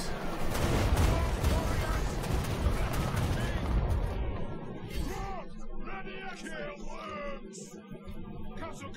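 Dwarf guns in Total War: Warhammer fire in a dense, rumbling volley that thins out after a few seconds, leaving scattered distant shots under faint battle noise.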